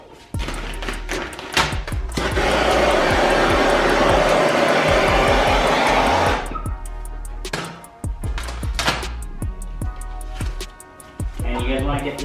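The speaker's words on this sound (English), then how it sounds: "I'm going to get my torch and I'm gonna go ahead and heat it up just a little bit" A torch used to heat vinyl wrap on a car blows a steady, loud hissing roar for about four seconds, bracketed by clicks and thumps, with someone talking before and after.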